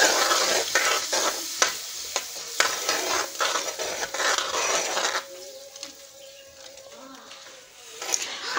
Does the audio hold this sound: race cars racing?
no